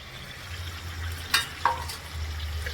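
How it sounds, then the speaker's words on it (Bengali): Chicken pieces with chopped tomato and green chilli stir-fry in a pan without added water, giving a low steady sizzle with two brief scrapes of a spatula stirring near the middle. "খুব আস্তে আস্তে এতে নেড়ে নেড়ে ভাজা ভাজা করতে হবে"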